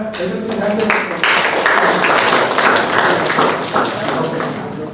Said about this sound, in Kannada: ಓ ಚಪ್ಪಾಳೆ ಕೊಡಪ್ಪ